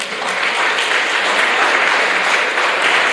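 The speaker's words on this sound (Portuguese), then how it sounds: "Você pode aplaudir o Senhor?" A church congregation applauding during a sermon, a full, continuous roar of clapping hands that stays steady and strong from start to finish.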